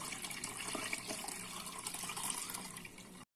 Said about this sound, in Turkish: Evet arkadaşlar kaynattığımız sütü şimdi şöyle süzdürüyoruz